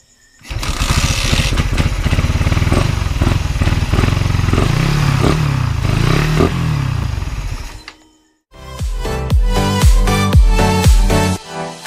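The engine of a damaged 2018 Suzuki Raider 150 fuel-injected motorcycle runs rough and will not idle, roaring loud and close for several seconds, cutting out briefly, then restarting with an uneven, stuttering chug.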